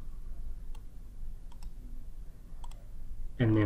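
A computer mouse clicks a few times in Excel, giving faint, sharp single and double clicks over a low room hum and ending in a short burst of louder sound.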